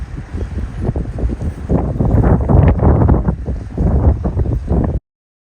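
Wind gusts and buffets through a rainstorm near the Indianapolis Motor Speedway, a loud, rough roar with surging and easing gusts that cuts off abruptly.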